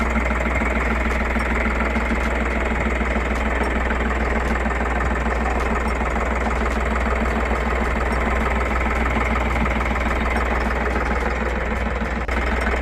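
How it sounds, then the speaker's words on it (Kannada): A used Ashok Leyland Dost light truck in good condition idles steadily, its engine giving a continuous low, even rumble with a faint knocking texture throughout, close and loud with no talking. "ಹಂಗೆ ಗಾಡಿ ಸ್ಟಾರ್ಟ್ ಮಾಡಿದೀನಿ, ಇಂಜಿನ್ ಸೌಂಡ್ ಎಲ್ಲ ಕೇಳಿಸ್ಕೊಳ್ಳಿ"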